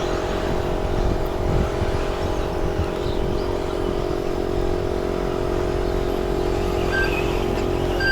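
A Schumacher Cat L1R 4WD radio-controlled car races at a club summer meeting, its high, continuous electric motor whine droning steadily without breaks, moderately loud, with no voices.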